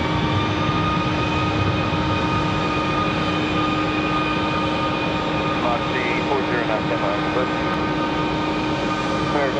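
Airliner engines at Raleigh Durham International Airport, a loud, steady whining drone with tonal hums that runs without a break, with faint radio-like voices under it.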